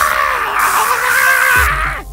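A man screams in agony while being executed in an electric chair, one sustained, loud, strained cry that holds for about a second and a half and then breaks off abruptly.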